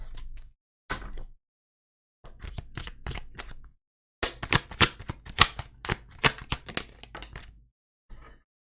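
Tarot cards being shuffled in bursts of crisp, riffling slaps and flutters, close and fairly quiet, with short pauses between handfuls and no talking.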